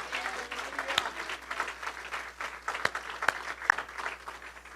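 Easter Sunday church congregation applauding, a sustained wash of many hands clapping at moderate distance with a few sharper individual claps standing out, no voices on top.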